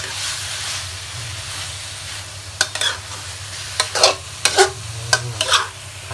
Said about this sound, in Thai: ผัดให้เข้ากันผัดให้ไก่เขาข้างนอกสุกหน่อยนะครับ